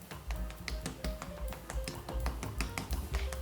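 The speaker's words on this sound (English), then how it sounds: "we're gonna be taking our meat tenderizer to flatten down the meat" A meat tenderizer pounds steak flat in a rapid, fairly steady series of sharp, close knocks, with low thumps under each strike and faint tonal sounds behind.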